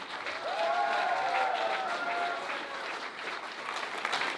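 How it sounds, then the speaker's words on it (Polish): A concert audience in Haradok applauds loudly and steadily for several seconds, dense clapping from a crowd with a brief whistle riding over it early on. "Duże brawa."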